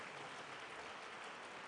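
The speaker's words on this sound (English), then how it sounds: "I ask that we give him another applause even as he goes to his seat" Audience at a zonal public hearing applauding a presenter as he returns to his seat, a faint, steady, even wash of clapping throughout the brief moment.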